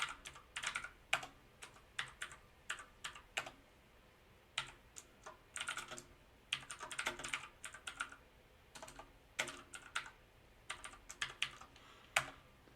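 Typing on a computer keyboard while writing code, heard as bursts of crisp key clicks in quick uneven runs with short pauses, close and fairly quiet, with no talking.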